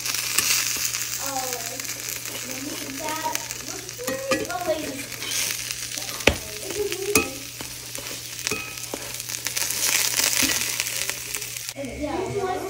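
Paratha-style flatbread frying in a pan, soft continuous sizzle with intermittent scraping and utensil knocks, while a person talks over it.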